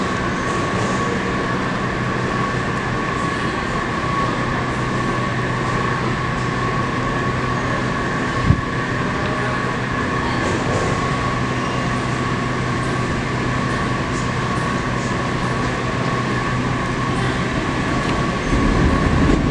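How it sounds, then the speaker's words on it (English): Washington DC Metro Orange Line train arriving outbound at a station, a steady loud rumble and hiss of rails and motors sustained throughout with a faint tonal whine, one sharp click midway, and the noise swelling slightly at the end. "here comes the outbound Orange Line"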